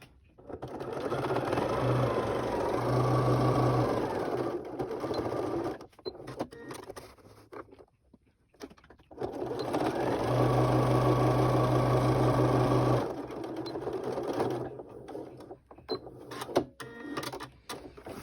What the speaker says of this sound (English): now I'm gonna sew along these lines here.